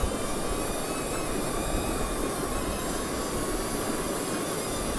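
A drone hovers in wind over a river during a fishing outing, a steady high-pitched buzzing whine with broad wind rush, constant and fairly close with no talk.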